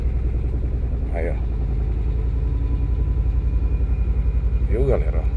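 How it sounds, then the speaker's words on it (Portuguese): A parked car's engine idles steadily in neutral with a continuous low rumble throughout, while someone talks over it. "Olha lá o carro funcionando, tá parado, tá vendo?"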